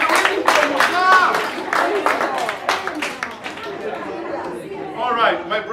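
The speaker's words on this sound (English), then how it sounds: "People continue clapping" Audience members at a business opportunity presentation clap in bursts, close and lively, mixed with chatter and a loud voice talking over the applause that fades toward the end.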